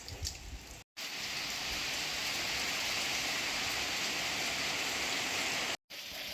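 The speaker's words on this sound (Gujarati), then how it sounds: "ઝરમર ચાલુ થયો" Drizzle begins on a rural home during the monsoon, a steady, even hiss of light rain that fills the clip without a break apart from two short dropouts, with no voices.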